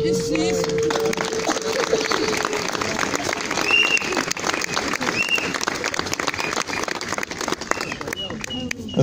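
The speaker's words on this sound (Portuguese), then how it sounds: "Ao grupo das viúvas, que também merecem um aplauso." Crowd applause at the Loures carnival burial ceremony, dense clapping with voices, shouts and whistles mixed in, loud and lively throughout.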